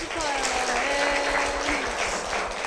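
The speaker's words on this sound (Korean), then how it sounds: "아, 우리 박수로 한번 쳐드리고 싶어요." An audience in a church setting breaks into steady, full applause that holds at an even level from start to finish, with a voice faintly audible beneath the clapping.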